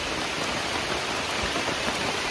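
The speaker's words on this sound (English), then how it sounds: "It is raining so hard right now." Heavy rain pouring down at a primitive campsite in Monte Sano State Park, a dense, steady hiss of drops drumming on surfaces close by, with no voices.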